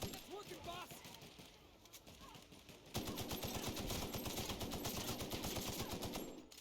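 Rapid automatic gunfire in The Outer Worlds video game, a dense burst of shots rattling steadily for several seconds after a quieter opening, with voices talking underneath.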